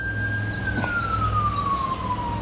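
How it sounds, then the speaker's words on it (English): A single siren tone sweeps slowly downward over steady low traffic rumble, fairly close and continuous, with no talking. "The sirens."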